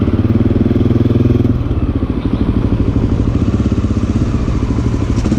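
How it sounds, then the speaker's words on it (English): Motorcycle engine running with a slight exhaust leak at the header, a steady rapid thumping idle with crisp ticking pulses, close and loud, with no talking. "Slight exhaust leak on the header, which I'm gonna fix."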